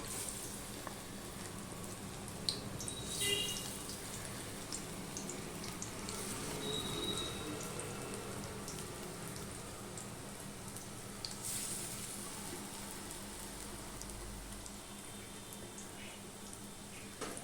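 A second batch of pakoras sizzles in hot oil in a wok, for a sour dal and pakora meal, with a steady, faint, even frying hiss throughout and no talking.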